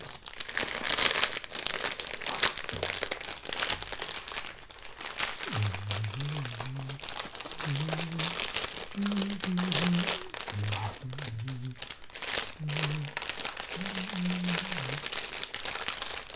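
Close crinkling and crackling of a plastic wrapper being opened around a Duchess glazed honey bun, continuous rustling throughout with a low voice murmuring underneath at times.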